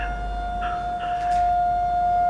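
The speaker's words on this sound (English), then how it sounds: "The sirens are being tested" Civil defense sirens being tested sound from a distance as a steady, sustained tone that holds throughout, with a faint wavering layer above it and low background rumble.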